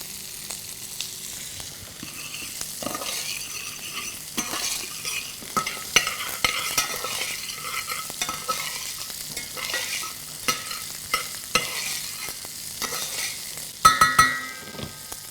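Beef cheek meat dusted in flour searing in hot fat in a pan, a steady crackling sizzle with stirring and scraping throughout, a louder burst of spitting near the end, no talking.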